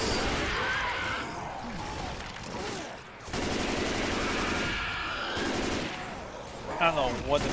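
Rapid, continuous gunfire rattles through a level in Left 4 Dead 2 during a fight with tanks, dense overlapping shots under game noise, with a voice talking near the end.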